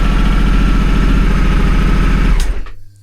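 The engine of a Honda African Twin CRF1100L motorcycle idles close by with a steady, rapid mechanical throb, then cuts out and quickly winds down to quiet.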